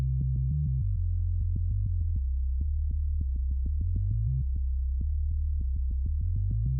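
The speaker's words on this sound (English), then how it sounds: "And then you've got a sub bass underneath" A sub bass synth line in an electronic track, a deep steady low tone sustained throughout with short clicky note changes, loud and alone with no voices.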